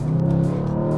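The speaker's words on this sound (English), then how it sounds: "V8 engine." A Mercedes C63 V8 engine hums at a steady, loud, close idle or light rev, with a deep even tone and faint pulsing throughout.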